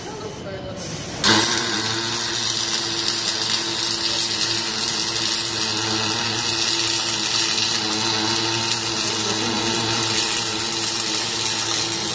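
Welding during a training session, a steady broadband hiss and crackle running continuously after a sharp onset, with a low hum beneath and a person talking over it.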